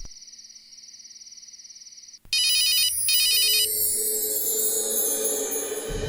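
A phone rings on speakerphone indoors, first a faint repeating electronic trill, then a loud synthesized ringtone melody with tonal beeps continuing steadily without talk.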